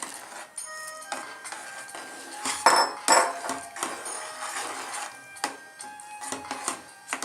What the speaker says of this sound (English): Keep mixing so that lumps are not formed.